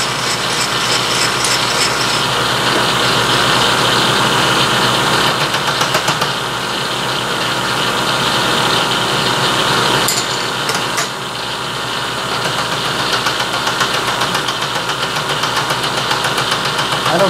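Milling machine taking a cleanup cut across metal stock, a loud continuous mechanical whir with rhythmic gear and cutter chatter, plus a brief change in tone about midway.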